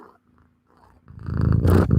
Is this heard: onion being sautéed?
no